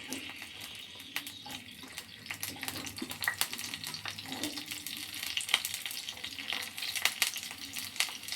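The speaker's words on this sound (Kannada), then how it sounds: "ಆನಿಯನ್ ಆನಿಯನ್ನ ಫ್ರೈ ಮಾಡ್ಕೋಬೇಕು" Onions fry in oil in a pan for mushroom gravy, a steady crackling sizzle with frequent scraping and stirring clatter close by throughout.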